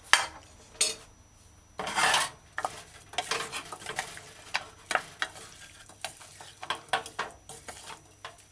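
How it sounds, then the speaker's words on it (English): Roasted sesame seeds are stirred into mala steak in a pan with uneven, scraping strokes of a utensil against the metal over a faint sizzle. "So add the roast sesame seed and stir in properly."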